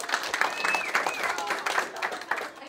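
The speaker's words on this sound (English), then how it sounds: "Everybody clap for Deputy Dog." Children clap for Deputy Dog in a dense, close patter of small hands, with excited young voices and squeals rising over the applause.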